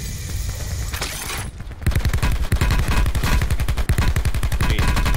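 Rapid automatic gunfire in the Call of Duty: Blackout video game, starting with scattered shots and building into a long, loud, close burst of evenly spaced rounds.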